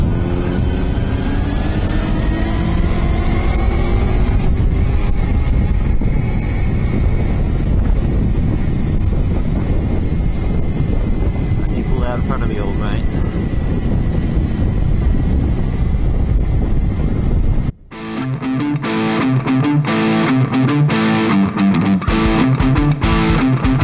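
Loud, steady engine roar of motorcycles, including a Kawasaki Ninja 250, riding near Mundaring Weir, Perth, heavy with wind buffeting, cutting abruptly to a different, quieter motor drone near the end.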